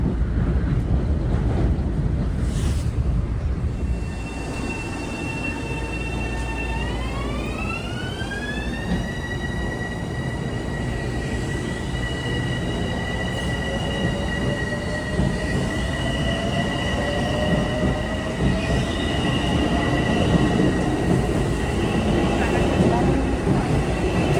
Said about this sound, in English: this is the way I like to travel by train in North White Plains